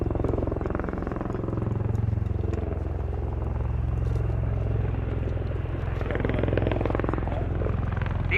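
A Bell-Boeing CV-22B Osprey tiltrotor of the US Air Force flying at the RIAT 2017 airshow, a loud, steady rotor and turbine drone that holds evenly throughout with slight swells.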